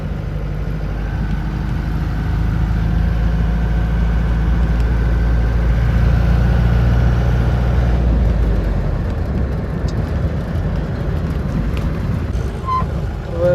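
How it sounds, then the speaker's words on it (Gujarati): An old-model jeep engine runs steadily with a deep low rumble, loud and close, holding an even idle-like drone before easing slightly toward the end. "જીપ છે ભાઈ ઓલ્ડ મોડલ"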